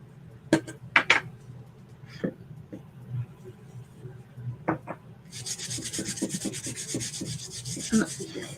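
Surface wax rubbed onto a wood piece by hand: scattered soft knocks and brushing at first, then a steady close rasping rub for the last few seconds, with no talk.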